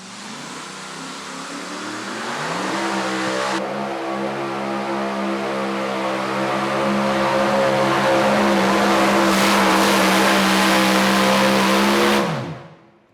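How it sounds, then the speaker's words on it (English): A Chevy S10 super modified two-wheel-drive pulling truck runs at full throttle during a pull in Goshen, Indiana, its engine climbing to a loud, sustained high-revving roar for about ten seconds before cutting off abruptly. "Lisa Tatum, the full throttle Chevy S10, makes a nice run here this afternoon."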